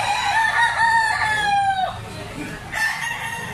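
A gamefowl rooster crows loudly and close among chickens for sale, one long drawn-out call, followed by a softer second call as someone talks faintly in the background.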